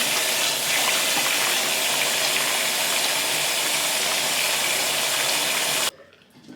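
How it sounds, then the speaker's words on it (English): A bathroom or kitchen tap gushes steadily and loudly while hands are washed, a continuous close rush of water that stops abruptly near the end, with no talking. "I'm gonna wash my hands"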